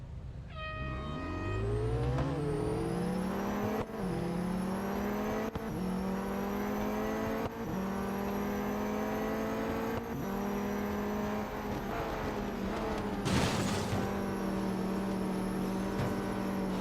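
Formula E race cars run the Berlin circuit in the racing game Real Racing 3, giving a loud, continuous electric engine whine that climbs in pitch in repeated steps as the car accelerates, with one brief burst near the end.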